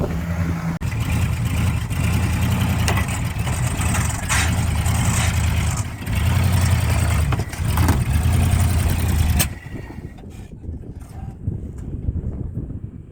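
A Dodge Power Wagon truck engine roars and strains loudly while driving up onto a Hyundai car, with steady revving that cuts off abruptly near the end, leaving quieter wind and background rumble.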